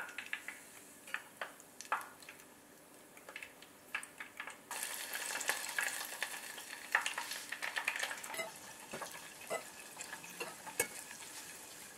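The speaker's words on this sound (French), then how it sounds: "Donc maintenant, on va les faire cuire une par une et juste quelques secondes" Hot oil sizzles and crackles steadily, growing louder as pea risotto balls drop in, with scattered clicks and taps of utensils throughout.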